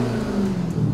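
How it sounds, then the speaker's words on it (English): A car engine revving, a short steady low mechanical drone with a slight rise in pitch, close and fairly loud throughout the brief moment. "You gotta rev the engine"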